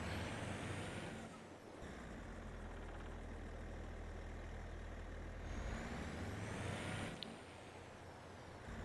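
A heavy truck in a farming video game idles and rumbles steadily, with sharp hissing air-brake releases near the start and again toward the end, and no talking.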